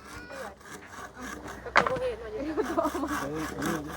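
A hand saw cuts through wood at a house construction site with rough, rhythmic rasping strokes close by, while workers talk over the sawing.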